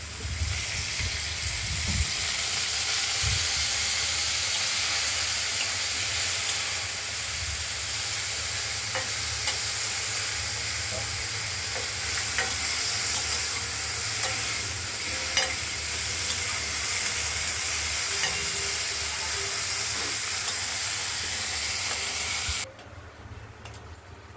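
Cut okra and potato pieces frying in a pan, giving a continuous loud sizzle and hiss under repeated spatula stirring and scraping, no talk; the sizzle drops away abruptly near the end.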